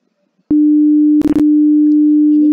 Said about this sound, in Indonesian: Kalau 300 Hz itu bunyinya seperti ini.